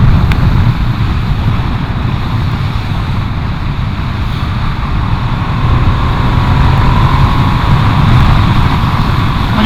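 A Ducati Streetfighter V2 motorcycle engine accelerates hard on an open road, its rising whine half buried under loud, constant wind rush against the rider's microphone.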